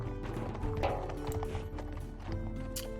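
Horses clip-clop in the Six Ages video game, a steady run of hoofbeats over layered game music with no talking.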